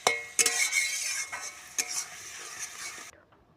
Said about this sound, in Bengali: এই যে টমেটো আর পেঁয়াজটা খুব ভালোভাবে ভাজা হয়ে গেছে